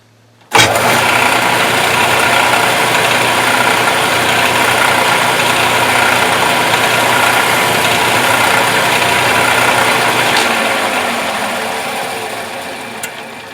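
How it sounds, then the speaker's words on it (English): A bandsaw motor switches on abruptly and runs with a loud, steady whirring hum for about ten seconds, then winds down and fades. "break that edge, and whack it in the bandsaw."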